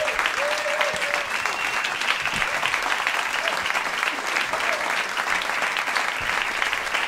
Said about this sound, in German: Großer Applaus, ja.